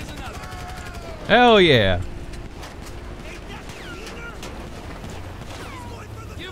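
Gunfire in GTA V during chaotic fighting at Fort Zancudo, quick shots and bursts scattered across the scene under a loud sweeping whine, with someone talking excitedly over it.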